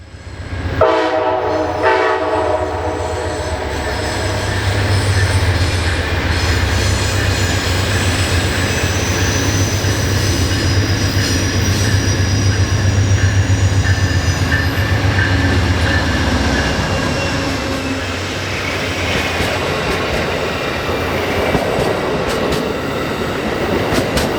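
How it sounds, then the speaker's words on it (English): Amtrak's Cardinal passenger train, led by a Phase 3 painted locomotive, rounds a bend toward Union Station in Washington DC, a loud, sustained rumble and wheel roar with a horn blast near the start, steady for over twenty seconds. "The first was Amtrak 50, the Cardinal, rounds the bend headed to Union Station with Phase 3 painted Amtrak 145 leading the way."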